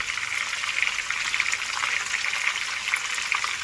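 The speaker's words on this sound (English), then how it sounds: "So we're just going to keep searing. I'm also going to sear the ends." Chuck roast searing on its sides in a hot greased pan, a steady close crackle and sizzle of fat spitting, even in level with small pops throughout.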